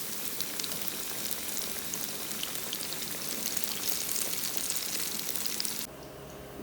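Kababs sizzling in hot oil in a Pakistani home kitchen, a dense, faint crackling hiss that continues steadily, then drops abruptly near the end.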